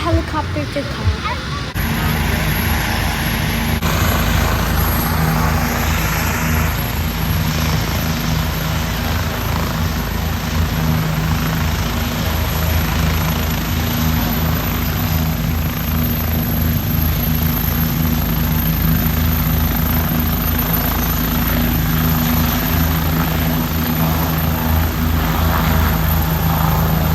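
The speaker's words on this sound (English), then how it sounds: "After some time, the helicopter took off." A police helicopter lifts off at an outdoor community fun run, its rotor and turbine roaring loud and steady throughout, with faint crowd voices underneath.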